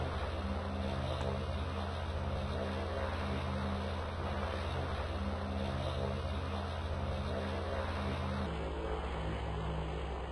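An airplane taxis toward the runway in the flight game PTFS at low thrust, a steady engine drone with a low hum that holds evenly throughout and shifts slightly in pitch near the end, with no talking.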